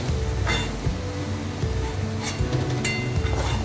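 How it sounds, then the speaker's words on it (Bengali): Onions frying in a pan for a chicken dak bungalow curry give a steady, close sizzle, with a few clinks and scrapes of a utensil stirring against the pan. "আমি পেঁয়াজ ভাজাটা তুলে নিচ্ছি।"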